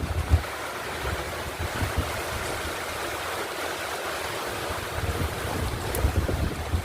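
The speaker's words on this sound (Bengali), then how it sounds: "পাগলের মতন হাওয়া" Strong gusty wind roars during a rainstorm in Kolkata, a broad rushing noise with low buffeting rumbles against the microphone, steady and loud throughout with no voices.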